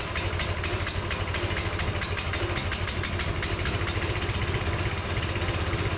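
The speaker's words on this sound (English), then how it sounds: "As you can see, the engine started on the first pull." A Coleman CT200U mini bike engine runs at a steady idle after starting on the first pull, a loud, close, even putter with a rapid regular beat throughout.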